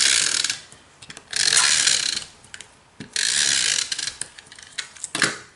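A snail adhesive tape runner is pressed and pulled across a handmade birthday card, giving two long ratcheting, rasping passes with short clicks between them, close and crisp with no talking.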